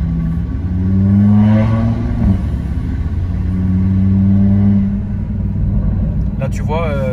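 An Audi RS3 Stage 3 engine holds a deep rumbling drone, rising in pitch and easing back, heard from close by as a French conversation carries on over it.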